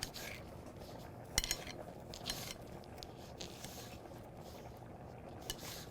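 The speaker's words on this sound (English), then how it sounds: "Just got a few more tomatoes to slice." A knife slices tomatoes on a board, giving faint, scattered soft cuts and a few sharp clicks and taps from the blade, close but quiet.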